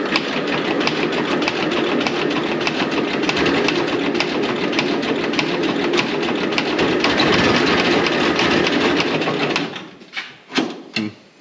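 An old tractor engine is cranked by a belt starter, chugging loud and continuous for several seconds, then sputtering out in a few uneven bursts as it fails to catch.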